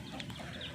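Village chickens, with chicks among them, cluck softly and continuously at close range during feeding, a low busy murmur of fowl across a brief moment.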